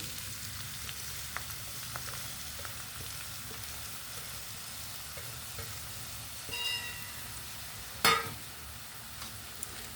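Onion and green chili pieces fry in a pan with a steady, quiet sizzle, broken by a couple of sharp utensil clinks near the end.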